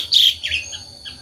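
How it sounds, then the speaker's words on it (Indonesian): An Asian pied starling in a home aviary gives a few short, bright chirping calls, close and clear, with brief pauses between them over a quiet low background. "Nah, teman-teman, itu jalak suren."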